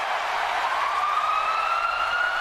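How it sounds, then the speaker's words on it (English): An ambulance siren wails steadily and loudly at a wrestling event, its rising tone sweeping continuously through the whole stretch with no voices over it. "It's an ambulance."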